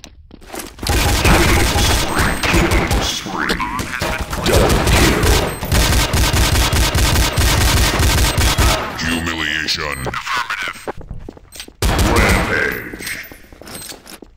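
Rapid gunfire from a CS-style shooter video game, in long sustained bursts of loud automatic shots with short pauses between volleys, close and dense, with a player talking over part of it.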